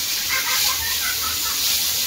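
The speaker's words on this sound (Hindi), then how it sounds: "तावा में साग फ्राई हो रहा है" Wild saag greens, unsalted, frying on a tawa, giving a steady broadband sizzle and hiss that runs unbroken and fairly loud from start to finish, with no voices over it.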